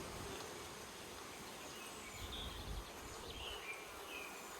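A steady, low hum of many honeybees buzzing close by on a hive frame, continuous with slight swells in volume.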